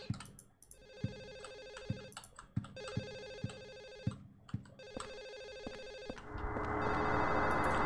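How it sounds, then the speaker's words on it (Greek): A telephone rings in Silent Hill 4, repeated electronic ring bursts in a regular rhythm over low thuds, giving way to a wash of static-like noise at the end. "Είναι ένα τηλέφωνο, λέει, που χτυπάει κάπου."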